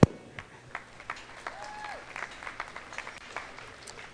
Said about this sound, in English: let's give these seniors a round of applause.